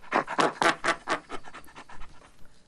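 A human voice imitates a chimpanzee's low-level panting laugh: a rhythmic series of breathy huffs, about a dozen pants that start strong and fade, close and alone.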